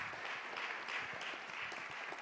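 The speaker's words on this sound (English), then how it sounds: "Let's give our panel another round of applause." An audience applauds a panel at an event, producing steady, dense clapping that holds at an even level throughout, with no voices standing out.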